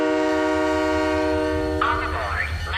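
A train departs in the video game Halo ODST: a steady rumbling hum with sustained horn-like tones, then a swooping tonal sweep near the end, fairly loud throughout.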